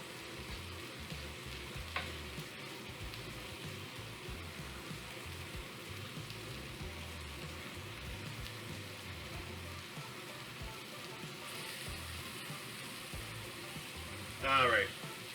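Beurre blanc sauce simmers and reduces in a pan with a faint, steady low bubbling and sizzle throughout, quiet and close, with a short clatter near the end.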